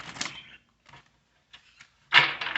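Tarot cards shuffled by hand in short, scattered bursts: a soft riffle, a few light taps and flicks, then a louder rustling shuffle at the end, close-up with no voices.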